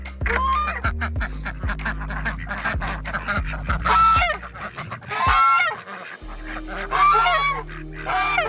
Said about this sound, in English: Let's go ahead and let these ducks out.